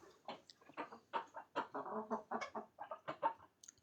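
Chickens in an open backyard coop cluck in a quick, uneven series of short calls, fairly faint and without talk.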